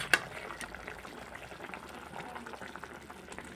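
Fish curry gravy with potatoes simmering in a pot, a soft steady bubbling hiss throughout, close and quiet, after one sharp clink at the start.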